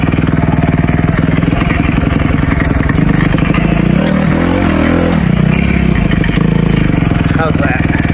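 Kawasaki KX250F dirt bike engine revving up close, a loud continuous buzzing drone that rises and falls with throttle blips through the middle, clattering mechanical texture throughout.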